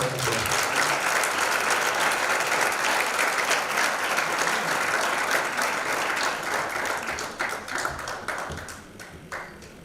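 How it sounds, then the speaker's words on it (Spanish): Audience at a brotherhood's inaugural lecture and awards ceremony bursting into strong applause, a thick sustained clapping that thins into scattered individual claps and fades out toward the end. "para quien ruego un fuerte aplauso"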